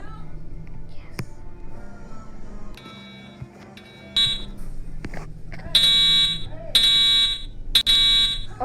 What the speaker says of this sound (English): I'm gonna pull the fire alarm